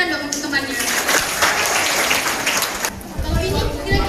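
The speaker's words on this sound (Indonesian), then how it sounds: "Tepuk tangan dong untuk temannya." Clapping from an audience at an Indonesian event, bursts of applause mixed with loud voices and crowd noise, with a short dip before the clapping picks up again.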